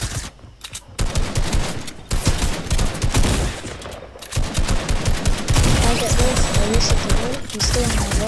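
Assault rifle fire in Fortnite rattles out in rapid, loud bursts, short gaps breaking the strings of sharp cracking shots, with other gunfire and game effects mixed in.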